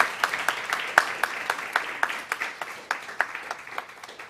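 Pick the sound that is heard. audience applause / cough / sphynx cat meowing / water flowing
audience applause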